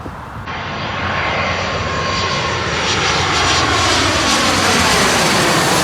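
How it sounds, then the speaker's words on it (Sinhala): A passenger plane lands at London Heathrow Airport, its engine roar loud and steady, swelling slightly as it passes close overhead with no voices. "ප්ලේන් එක ලෑන්ඩ් කරනකොට පේන හැටි"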